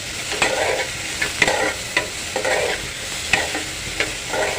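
Capsicum masala frying on high flame, a continuous loud sizzle with rhythmic scrapes of a spoon stirring through the pan every second or so.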